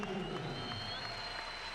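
A stadium crowd at a Ukrainian Premier League football match between Dynamo and Vorskla applauds steadily as a goalscorer leaves the pitch, a dense, continuous wash of distant clapping under faint commentary.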